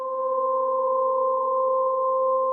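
Novation Summit synthesizer holding a sustained wavetable tone drenched in big reverb: a steady, bright, pure-sounding pitch with a few stacked overtones, ringing evenly at constant loudness throughout.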